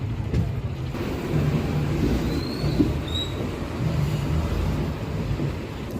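Circar Express passenger train running steadily after pulling out of New Guntur, a continuous low rumble of wheels and carriage noise with faint high squeals near the middle.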